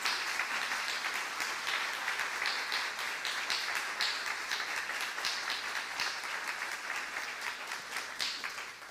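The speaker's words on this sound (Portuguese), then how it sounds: "Queria que você ficasse de pé, recebesse aqui com uma calorosa palmas aqui, Rafael, Tayane." A church congregation applauding warmly during a Sunday morning service, dense sustained clapping from many people filling the room and tapering slightly toward the end.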